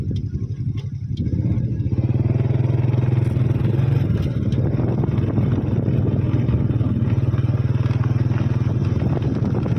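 A motorbike rides along a rural village road, its engine droning steadily and close with a low throbbing hum and some rattle, no voices heard.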